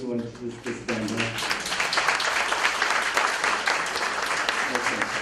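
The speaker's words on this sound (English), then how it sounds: "how about the big round of applause for all the members who want to just stand up?" Members of a police support group applaud at a meeting. A few scattered claps quickly swell into a loud, full round of applause that keeps going, with faint voices underneath.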